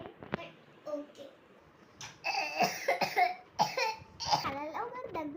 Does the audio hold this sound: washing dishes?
no